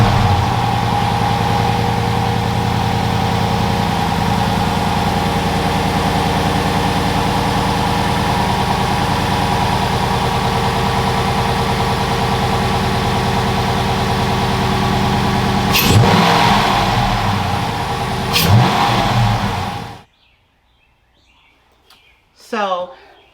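A 2021 Dodge engine fitted with a cold air intake and throttle body spacer idles loudly and close for a long stretch, then rises in a couple of sharp revs before cutting off into near silence.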